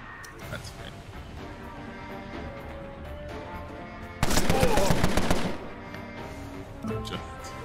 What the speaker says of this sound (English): Sweep the highlighted area with a volley of bullets.